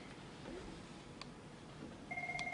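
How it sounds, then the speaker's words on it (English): A telephone starts ringing only near the end, a soft electronic trill over quiet room noise, no talking. "That's that phone, on our phone."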